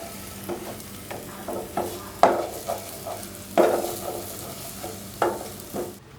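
Egg whites beaten with pepper and salt being scrambled in oil in a pan, soft sizzle under a handful of sharp spatula scrapes and taps, close by and alone, ending abruptly.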